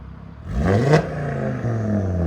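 A 2018 Audi RS3 2.5L turbo five-cylinder with downpipes blips its throttle, the engine note rising sharply to a loud peak and then settling back to a throaty idle, heard close up without talk.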